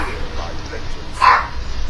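A pet dog named Kazoo gives a single short bark over ongoing fighting-game sounds from Mortal Kombat 11 and a person talking.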